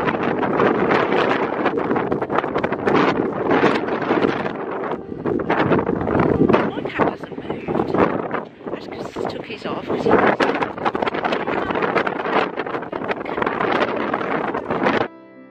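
Strong wind buffets an outdoor camera microphone on the road toward Penzance in Cornwall, a loud, continuous, rumbling roar that surges and dips for the whole stretch before cutting off abruptly.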